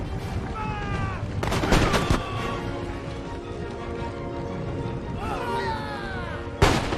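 Musket volleys crackle in a battle in the Empire: Total War strategy game, with dense rippling gunfire bursts over a continuous din of battle and distant booms, loud and layered.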